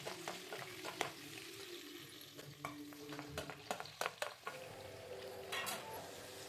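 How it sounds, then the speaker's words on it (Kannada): Chopped capsicum and onion frying in hot oil in a pan for a dhaba-style capsicum curry, a steady sizzle broken by scraping stirs and light clinks, close and fairly quiet. "ಕಟ್ ಮಾಡಿ ಇಟ್ಕೊಂಡಿದ್ದಂತಹ ಕ್ಯಾಪ್ಸಿಕಮ್ಮು ಮತ್ತು ಈರುಳ್ಳಿ ಹಾಕ್ಕೊಳ್ತಾ ಇದ್ದೀನಿ."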